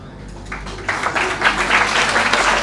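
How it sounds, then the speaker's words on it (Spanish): A lecture audience claps in applause, building from a few claps into a steady, close, fairly loud round that carries on to the end. "Entonces, muchas gracias por sus aplausos"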